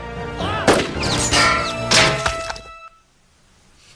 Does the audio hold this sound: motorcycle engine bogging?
no